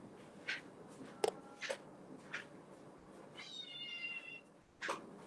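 A kitten meowing indoors, with several short, thin mews spread across a few seconds and one longer drawn-out cry in the middle, fairly faint, with no talking.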